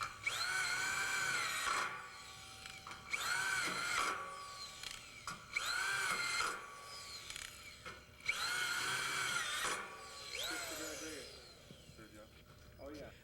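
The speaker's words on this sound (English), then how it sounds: "fasten each joint with 4 number 12 by 1 inch Tech crane screws that were" A power drill drives #12 by 1 inch Tek screws into the joints of a metal building's base rail assembly, in four long whining bursts with short pauses between them, loud and close.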